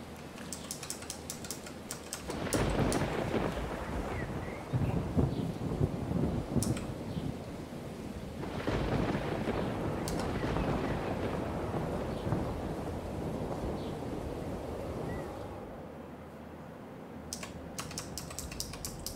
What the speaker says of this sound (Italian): forse perché piove